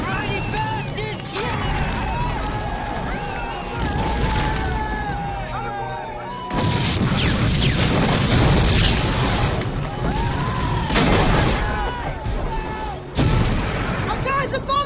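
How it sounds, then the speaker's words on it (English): Bombing explosions in a war movie set in a World War I battle, with heavy booming blasts and bursts of gunfire rolling continuously and loudly, dense and layered, while voices shout over the chaos. "Our guys are bombing us! Take cover!"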